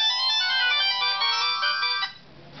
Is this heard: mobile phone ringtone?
yes